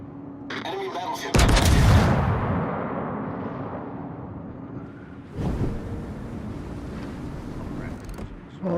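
A naval gun volley in World of Warships: a sharp loud blast, a long rumbling decay, then a second heavy blast about four seconds later, with ship and wind noise and some talk.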